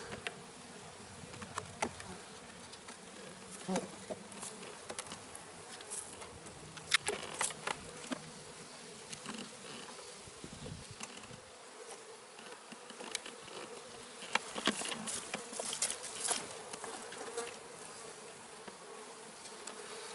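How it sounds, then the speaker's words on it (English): A honeybee hive humming during a queen transfer, a faint continuous buzz of many bees with occasional louder individual bees passing close, steady throughout with no voices. "No, the hive will just sit there and rumble."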